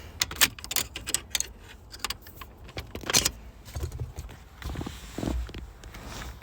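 Keys jangling and clinking in a Ford ignition while it is turned, several sharp metallic rattles close by, in irregular bursts that come and go, with no talking.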